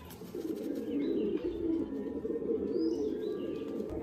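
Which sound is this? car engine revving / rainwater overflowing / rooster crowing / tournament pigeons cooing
tournament pigeons cooing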